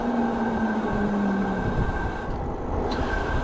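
An Engwe Engine Pro e-bike's brakes squeal with a thin, steady whine that drops slightly in pitch and stops about halfway. Rolling road rumble runs underneath throughout.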